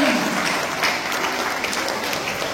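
Audience applause welcoming the Athreya Sisters at the Hyderabad UM Chaturmasa program: a steady, dense crowd clapping that fills the whole stretch at an even level.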